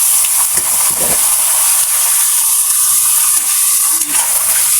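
Chicken sautés with browned garlic in a pan for sinigang na manok, giving a loud, continuous close hiss of sizzling oil with a few faint scrapes and knocks.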